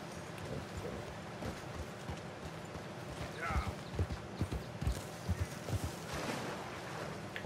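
Clip-clopping hooves of a horse in Red Dead Redemption 2, a steady rhythmic trot over rain-like background noise, with a brief whinny partway through and a voice speaking over the game sounds.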